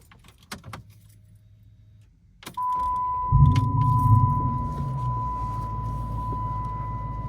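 Keys jangle and click, then a 2006 Dodge Charger R/T V8 engine cranks and fires into a loud, rumbling start before settling into a steady idle with a faint whine.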